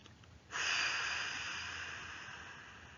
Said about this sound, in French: Expiration, soufflez fort par la bouche pour chasser les tensions accumulées dans votre dos.